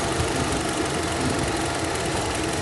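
The misfiring engine of a 2013 Hyundai Accent, a close, continuous running drone with an uneven, rough rhythm throughout and no talking.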